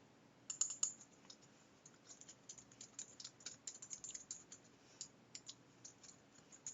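Soft, close clicking of computer keys in quick irregular bursts while text is entered into a diagramming program, faint and without any voice.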